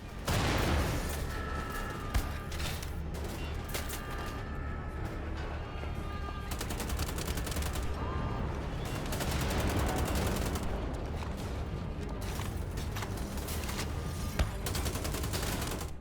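Rapid bursts of gunfire from the video game Wolfenstein: The Old Blood crackle continuously, with automatic weapon fire and occasional heavier booms layered together, loud and dense throughout.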